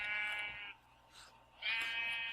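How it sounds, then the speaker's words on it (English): Sheep in the Minecraft video game give two drawn-out bleats with a short gap between them, moderately faint and with no talking. "Oh, sheep."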